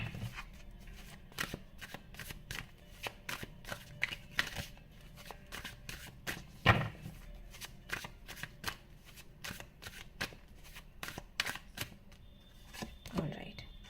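Tarot cards are shuffled by hand in a long run of crisp, rapid riffles and snaps, close and fairly quiet, with brief pauses between bursts.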